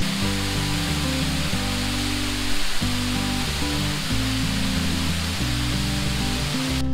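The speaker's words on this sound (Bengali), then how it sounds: "তো ফাইনালি আমরা ওয়াটারফলের সামনে এসে গেছি" Bakthang Waterfall near Gangtok, seen from the steps of a plant conservatory, gives a steady, loud, broadband rush of falling water that runs unbroken through the whole stretch, with a low droning tonal layer underneath.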